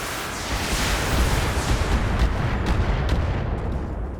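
Mech weapons in the BattleTech video game fire in a heavy, booming barrage, loud rumbling blasts with crackling bursts layered over a sustained low roar.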